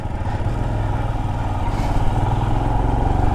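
A motorcycle loaded with bags sets off from Hundar in Ladakh on a rough mountain road, its engine close and loud with a steady throbbing idle that rises slightly as it pulls away.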